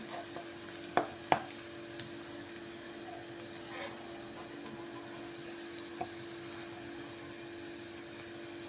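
Ginger garlic paste frying in a pan with drumstick, mango and tomato curry ingredients, a faint continuous sizzle under a steady hum, broken by a few light clinks of a spoon.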